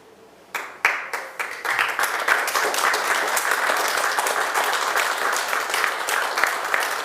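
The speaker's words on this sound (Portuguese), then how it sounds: "Sempre que as pessoas batem palmas" An audience at a book presentation bursts into applause, starting with a few isolated claps and swelling within two seconds into dense, sustained clapping that continues evenly to the end.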